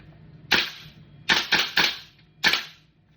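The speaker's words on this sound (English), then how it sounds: "I don't think there's a lot of gas in this mag, but I'll try and give you guys a little shooting" An airsoft gas blowback rifle, its magazine low on gas, firing five sharp snapping shots: one alone, then three in quick succession, then a final one, each with a short metallic clack, close and loud against a quiet background.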